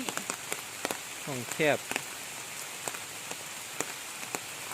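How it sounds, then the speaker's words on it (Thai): Rain patters steadily on surfaces near a waterfall at Khao Chamao, a constant hiss broken by sharp drip clicks, while a voice briefly speaks over it partway through. "ไปเบิ่งฝนตก"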